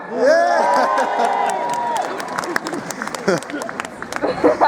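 A rally crowd at a demonstration in Sheffield cheers for Leeds, a loud burst of whoops and raised voices with some clapping that thins into scattered shouts and crowd chatter.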